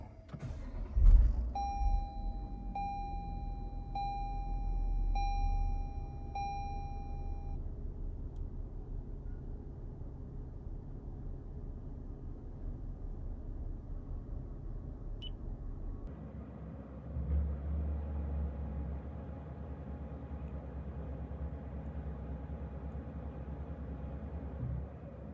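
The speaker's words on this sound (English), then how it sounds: "Let's switch on the car." A car is switched on with a short thump, a repeating startup chime follows for several seconds, and then a steady low engine idle hums, rising slightly about sixteen seconds in.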